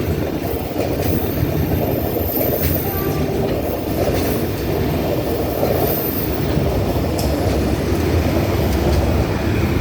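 A DD51 diesel locomotive pushing ballast wagons rolls steadily along the old track at Ban Pong with a continuous rumbling roar, wheel noise and occasional squeals, sounding close and sustained.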